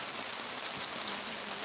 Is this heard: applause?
no